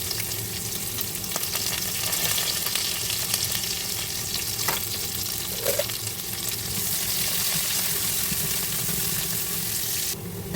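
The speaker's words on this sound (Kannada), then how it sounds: "ಸ್ವಲ್ಪ ಆನಿಯನ್ ಹಾಕಿ ಫ್ರೈ ಮಾಡಿ ಸಾಂಬಾರು ಮಾಡೋದು." Onion frying in oil for sambar gives a loud, dense, continuous hiss of sizzling close by, with a few faint stirring knocks.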